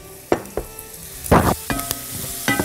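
A spoon stirs chicken soup ingredients in a pot with a little oil, producing loud close scraping strokes and sharp knocks over a soft ongoing sizzle.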